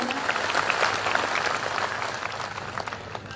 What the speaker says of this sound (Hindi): ऐसे हमारे मुख्यमंत्री जी के लिए जोरदार तालियों से अपन सभी स्वागत करें।